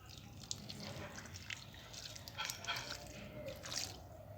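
A potted rose mallow plant is watered, giving faint, close trickling and dripping of water onto soil and leaves, with a few small splashes, under a quiet background.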